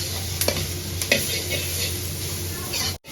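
Sukuti, Nepali dried goat meat, sautés with vegetables in a pan. A steady close sizzle runs throughout, with a few spatula scrapes and taps near the start and a brief cut near the end.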